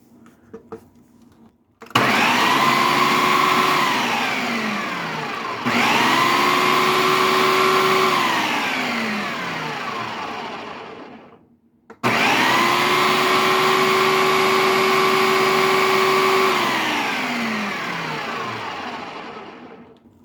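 A blender mincing food runs in three long bursts with short pauses between them, loud and close, its motor whine dropping in pitch as each burst goes on.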